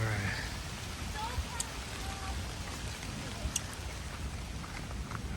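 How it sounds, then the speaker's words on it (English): Light rain falls around a hiker on the Appalachian Trail near McAfee Knob, a soft, steady patter mixed with gusts of wind noise and a few sharp drop ticks, close to the microphone. "And we're getting rained on. It hasn't started dumping yet, but it's definitely some rain."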